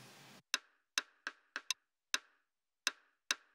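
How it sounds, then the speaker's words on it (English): Drumstick click sample layered into a pop production: a run of about ten sharp, dry wooden clicks at an uneven, syncopated rhythm, crisp and isolated after a brief noise burst. "Additionally, and this one already starts in the pre-chorus, is drumsticks."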